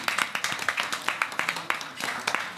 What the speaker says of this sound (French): vous pouvez demander vraiment un applaudissement